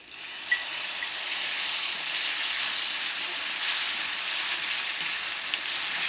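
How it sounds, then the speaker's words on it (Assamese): Ground black pepper fries in a hot pan with a steady, bright sizzle and hiss. The sound is close and continuous throughout, with no talk over it. "জালুক বেছি ভাজিব নালাগে।"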